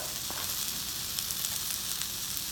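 Onions and bacon sizzle steadily in a hot pan while Tuscan chicken pasta is being made, a dense, even frying hiss that runs close and continuous the whole time with faint clinks.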